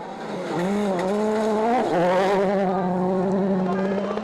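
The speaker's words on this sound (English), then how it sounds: "Mikko Hirvonen is fast approaching the fans at El Brinco." A Citroen rally car on a WRC Mexico gravel stage roars close by with a loud, sustained engine note that rises and falls through gear changes and throttle.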